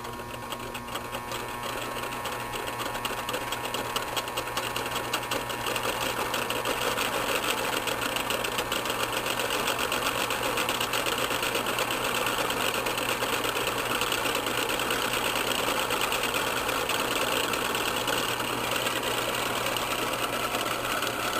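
A three-phase AC induction motor runs under applied power, giving a steady, continuous mechanical hum and whine with no breaks or speech.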